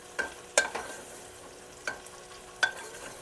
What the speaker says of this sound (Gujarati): ફુલાવર થોડુંક તેલમાં મિક્સ થઈ જાય આ રીતનું મિક્સ કરી દેવાનું છે